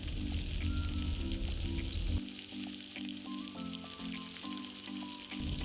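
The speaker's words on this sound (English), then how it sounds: "Stir to fry the chicken in garlic and ginger paste." Chicken fries in garlic and ginger paste with a steady, close sizzle and crackle, while a background hum shifts partway through and stirring adds faint scrapes.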